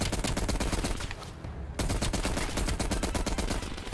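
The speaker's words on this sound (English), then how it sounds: "Let's start shooting. Hey, an M60." M60 machine gun in Call of Duty: Black Ops Cold War, loud rapid sustained automatic bursts with a brief pause partway through, close and dominant.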